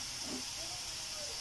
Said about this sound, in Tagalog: Lagyan ko ng kunting soy sauce.